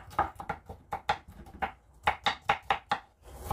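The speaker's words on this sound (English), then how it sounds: "So now I'm gonna just chop my garlic." A sharp knife chops garlic on a cutting board in a home kitchen, a quick series of close, crisp knocks in an uneven rhythm, some strokes coming in rapid pairs, with no talking.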